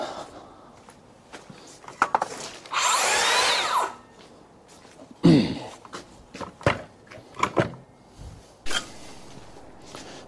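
A power saw bites into timber in one short, loud burst of roughly a second, surrounded by knocks, thuds and handling clatter of wood on a house-building site.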